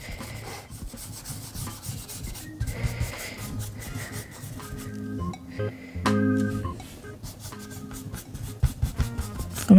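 A paintbrush scrubs and rubs paint onto an art journal page in close, soft, uneven bristly strokes with small taps and pauses.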